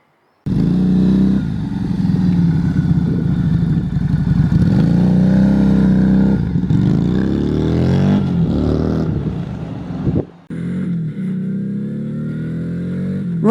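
A Lexmoto Vendetta 250 twin motorcycle is ridden on the road, its engine droning loud and close with rising revs through the gears, a brief dip around a gear change, then pulling again.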